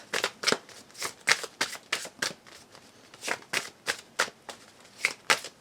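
A deck of tarot cards is shuffled by hand up close, producing repeated riffling bursts in an uneven rhythm with no speech.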